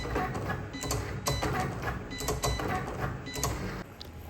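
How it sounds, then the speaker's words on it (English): A Cricut cutting machine cuts letters and small stars from golden glitter cardstock, a steady close mechanical whirring with rhythmic clicks and carriage movements throughout. "Now time to cut the happy birthday letters and few stars from golden glitter cardstock."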